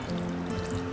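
Water poured from a cup into a pan while preparing choux pastry for chocolate eclairs and profiteroles, a steady close trickling stream running the full second with no talk.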